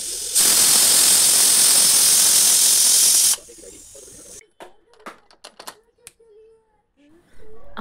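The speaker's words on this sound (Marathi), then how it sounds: "तर मग आपण हे मूग कुकरला लावून याच्या शिट्ट्या करून घेऊया." A pressure cooker with dry moong beans lets out a loud, steady whistling hiss of steam for about three seconds, then cuts off, followed by a few scattered clicks and light knocks before the hiss briefly returns.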